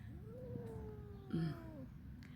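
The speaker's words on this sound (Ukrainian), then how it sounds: "Поспілкувався з кицею, пішли." A cat gives a single drawn-out meow that rises and then slowly falls, fairly close and clear above a steady outdoor background hum on an autumn walk.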